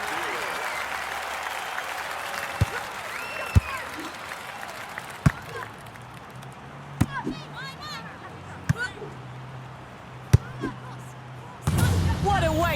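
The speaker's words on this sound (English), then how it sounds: "Just listen to the crowd." Crowd applause and cheering in the London 2012 video game, a swell of clapping and roar with sharp thuds and ball impacts, an announcer talking over it.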